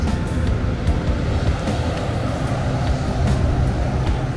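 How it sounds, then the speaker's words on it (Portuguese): Heavy trucks rolling along highway 354 near a rail yard, heard from above as a steady, loud low rumble of passing traffic with no pauses and no voices. "Olha lá os caminhões passando na 354."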